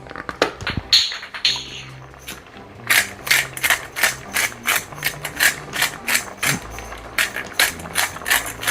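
A pepper mill grinding black pepper over a pot of lentils, rapid ratcheting crunches repeating in a steady rhythm, loud and close with no talking.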